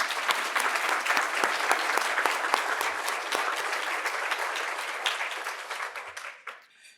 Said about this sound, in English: I ask you to please join me in giving a round of applause for our team.